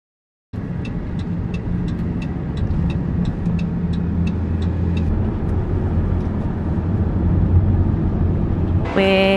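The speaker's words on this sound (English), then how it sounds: "so we're now getting in the car" Steady car engine and road rumble from inside a moving vehicle on the way to Typhoon Lagoon water park in Florida, continuous and fairly loud, with faint ticking in the cabin and a brief sharp noise at the very end.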